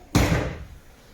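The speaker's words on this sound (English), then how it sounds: "Let me close this door." A car door swings shut with a single solid thump that decays quickly into a quiet garage, with no voices.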